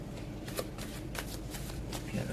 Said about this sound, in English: the cards are flipping for you guys right now